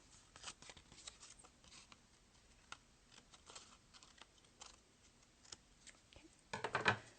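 Scissors snipping paper craft pieces for a rainbow fish window-art project: quick irregular cuts and paper rustles close by, ending in a louder burst of crinkling paper.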